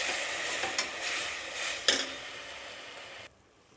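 A paste of ground mint, coriander, ginger, green chili and garlic sautés in a pan for a quick kuska rice dish, a steady close sizzle broken by a few scraping stirs, then it cuts off near the end.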